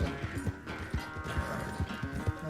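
A horse gallops in the video game Red Dead Redemption 2, its quick rhythmic hoofbeats steady and fairly faint under a dense layer of game sound.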